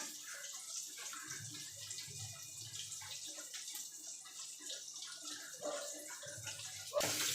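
Cake batter of beaten sugar and eggs for an orange cake is poured into a bowl, a soft, continuous liquid flow that stays faint and even throughout.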